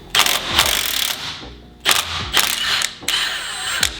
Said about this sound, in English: Impact guns are, oh, so good.